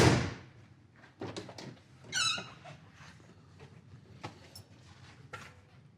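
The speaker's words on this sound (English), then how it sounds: "Doors fit well. Just even here, look at how that opens and closes." A 1968 Plymouth Road Runner car door swings open with a short squeak and shuts with a solid thunk, followed by faint smaller clicks and handling noises in a quiet setting.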